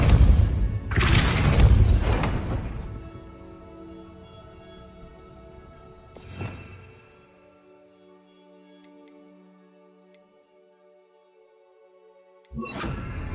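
Harry Potter Depulso spell effect: a deep booming whoosh with shattering crackle opens, fades into a ringing tonal shimmer, then a second swell and a fresh burst close the clip.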